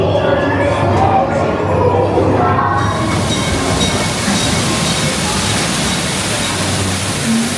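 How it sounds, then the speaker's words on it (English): The Calico Mine Train ride at Knott's Berry Farm rumbles along its track, a loud continuous roar of wheels and cars that thickens into a dense wash after a few seconds. "Calico Mine Train ride is incredible."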